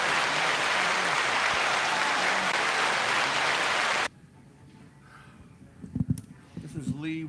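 An audience claps loudly and steadily at a live film festival show for about four seconds, then the applause cuts off abruptly and someone speaks over low room noise.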